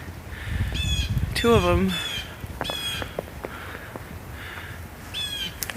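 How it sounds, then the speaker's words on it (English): Blue jays call outdoors on a hike, sending out several harsh, loud squawks in separate bursts, some short and some drawn out, while a voice speaks briefly. "There's that blue jay."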